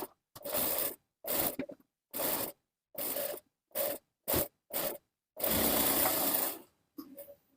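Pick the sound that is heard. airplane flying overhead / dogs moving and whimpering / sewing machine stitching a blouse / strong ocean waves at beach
sewing machine stitching a blouse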